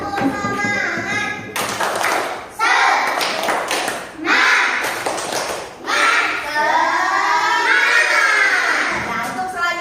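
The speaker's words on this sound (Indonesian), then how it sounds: "sekarang kita tepuk semangat dulu biar tambah semangat lagi" A third-grade class does a rhythmic chant-and-clap cheer, children's voices shouting in unison with bursts of sharp claps and taps in a patterned rhythm, loud and close in a classroom.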